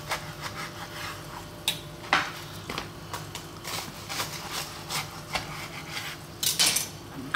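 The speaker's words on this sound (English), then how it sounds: "Let's get these cut open." A knife saws through chorizo and cheese toasted sandwiches on a board, giving close, crunchy scraping strokes of toasted bread with a few sharper knocks against the surface.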